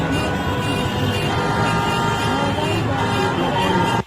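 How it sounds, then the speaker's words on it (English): Highway traffic fills the footage with a dense, steady roar of cars and engines, loud and unbroken, with faint horn toots mixed in until it cuts off abruptly. "So this is of a highway."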